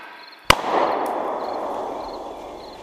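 A single sharp gunshot cracks out loud and close as a sound effect in a Thai radio drama, its boom ringing and rumbling away over the next two seconds with no voices.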